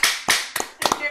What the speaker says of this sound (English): So everybody give Jeremy a nice round of applause.